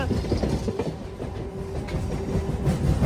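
A MEMU train on the Kacheguda to Raichur route rumbles along the rails with steady clickety-clack, close and moderately loud, with a faint wheel squeal partway through.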